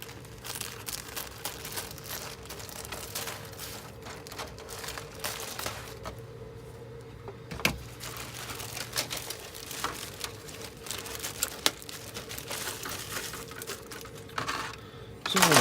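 Plastic sprues from an ESCI 1:48 F-100D Super Sabre model kit are handled. Close, steady rustling and crinkling is broken by small clicks and taps throughout, with no voices.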